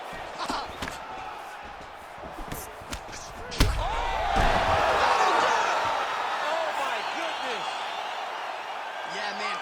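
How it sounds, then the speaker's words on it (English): A crowd in the UFC 5 video game roars and cheers at a fight's end, a dense sustained swell after a sharp impact, with commentary voices talking over it. "Crowd loving it."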